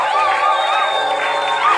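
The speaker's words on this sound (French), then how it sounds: "S'il vous plaît, poussez des cris de joie." Church congregation shouts and cheers for joy in a continuous, loud mass of voices, with a few higher whoops rising above the steady crowd noise.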